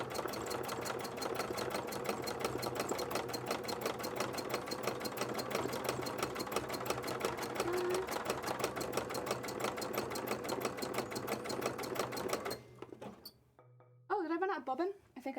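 A sewing machine chugs steadily through cosplay fabric in a rapid, continuous rhythm for most of the stretch, then stops near the end, leaving quiet shuffling and a brief voice.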